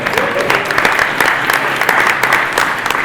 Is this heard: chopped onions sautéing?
no